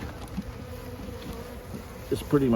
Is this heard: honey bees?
yes